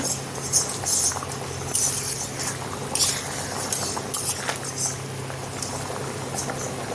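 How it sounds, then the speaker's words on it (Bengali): Potatoes boil in a pot for aloo biryani, a continuous close bubbling with rapid popping and occasional light clinks, no one speaking. "এখানে আলু দেখি কী অবস্থা, দেখুন কিছু টকবক ফুটছে।"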